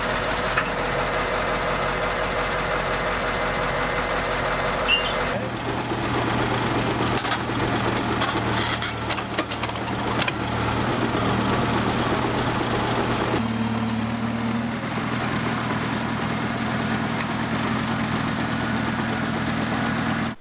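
Mobile truck cranes of 350 and 200 tonne capacity working to lift a crashed crane out of a ditch, their diesel engines idling in a steady, continuous low drone with shifting machinery noise and no talk.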